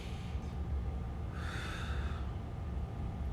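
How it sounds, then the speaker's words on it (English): A deep inhaled breath during a hip and adductor stretching routine, a soft airy intake swelling in the middle of a quiet, faintly hissing room. "Deep breath in."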